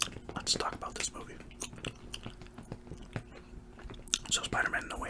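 Gum chewing close to the microphone makes wet, clicky smacks and soft crunches in an irregular rhythm, with a quiet whispering voice at times.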